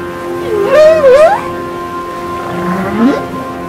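A whale sings in two long, moaning calls that swoop and bend in pitch, the first louder and the second softer, over a steady hum of ocean and boat-like background sound with no talk.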